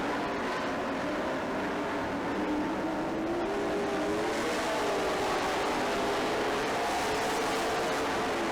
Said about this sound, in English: Good race going on there.